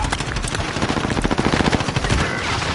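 Gunfire in a Call of Duty Warzone match: rapid automatic bursts crackle close and loud in a dense, rhythmic string of shots for nearly three seconds.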